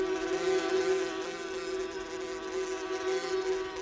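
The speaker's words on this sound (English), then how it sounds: "So this next one is giant killer bees." A close, steady droning buzz of insects continues unbroken, slightly wavering in loudness.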